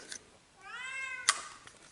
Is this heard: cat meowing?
yes